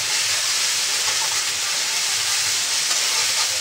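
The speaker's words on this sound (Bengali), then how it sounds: "এবার এটা একটু নাড়াচাড়া করে একটু আদা রসুনটা ভালো করে ভাজা ভাজা হয়ে যাবে" Ginger and garlic paste fries in a pan for mutton curry, a loud, even, broadband hiss that holds steady throughout with no talking.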